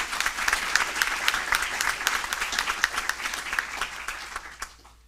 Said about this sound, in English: Can we have a round of applause for Isabel, please?